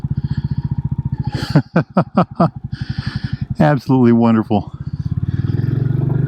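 Royal Enfield Bullet 350 motorcycle with a custom solo seat, its single-cylinder engine thumping steadily and close by while the rider turns, with someone talking over it throughout.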